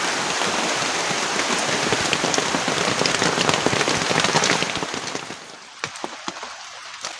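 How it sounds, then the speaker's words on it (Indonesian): Heavy tropical rain pounds steadily on a camping hut during a storm, a dense close roar that eases near the end into scattered drips and taps. "jadi ini hujan masih deras ya"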